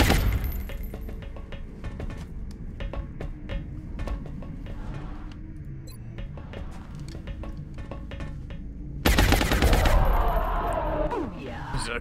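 Gunfire from the video game XCOM: The Long War, aimed at a Berserker, crackles in rapid bursts and is followed by a louder, harsh blast near the end, over a dense game soundscape.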